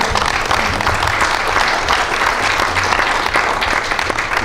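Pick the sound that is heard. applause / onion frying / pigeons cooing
applause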